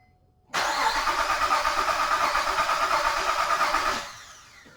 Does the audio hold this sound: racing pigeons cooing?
no